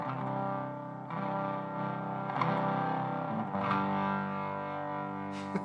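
A guitar is played through a Thorpy FX effects pedal, giving sustained chords with raspy, fuzzy distortion and a faint chorus shimmer. The sound is steady and moderately loud, with no talking.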